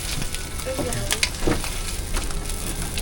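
Eggs frying in a hot pan, a continuous close sizzle with crackling pops and some stirring or scraping throughout.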